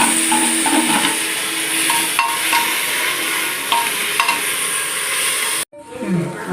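Tomatoes tipped into a pan of onions fried until browned for mutton biryani, a loud continuous sizzle with scraping stirs and a few sharp knocks of the spoon, then a sudden break where the frying sound cuts out.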